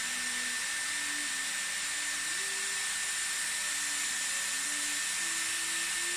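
A Dyson Airwrap hair styler blows its cool-shot air in a steady, even whoosh with a faint whine, running alone for several seconds while styling beach waves.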